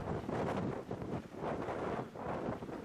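Strong gusting wind outdoors at a Wyoming event, loud broadband roar buffeting the microphone in surging waves, rising and easing across the stretch with no voices.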